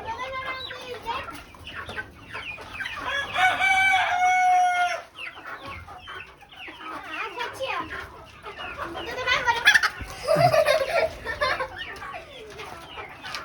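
Hens and young chickens cluck and a rooster crows in bursts, with people talking nearby over a busy farmyard.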